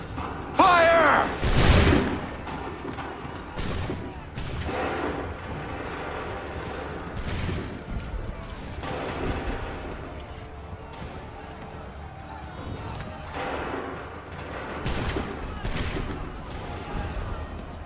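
Musket volleys in the Battle of Lexington in Assassin's Creed 3: ragged bursts of massed gunfire and booms repeat across the scene, with shouted commands between them.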